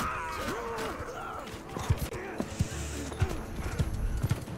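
Horses of mounted archers in the Mount & Blade 2: Bannerlord video game, irregular hoof thuds and clip-clop beats rising over a busy battle din, with a voice talking underneath.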